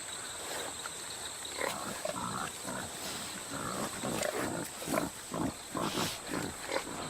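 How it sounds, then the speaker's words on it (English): Peccaries in the Amazon rainforest giving rough, irregular grunts and snuffles, moderately close, over a steady high insect drone. "Resembling wild pigs in behavior and appearance, peccaries never stray too far from water."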